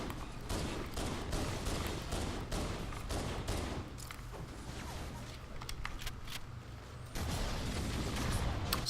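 Rapid gunfire bursts and rattling shots in Halo: Reach, a dense, steady barrage that drops back briefly before surging loud again near the end.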